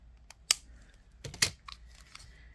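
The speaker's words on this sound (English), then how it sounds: "So I'm just going to take 26 inches, which is right here, and cut that off." Scissors snip beading wire free from a spool, two sharp, close cuts about a second apart with faint handling clicks around them.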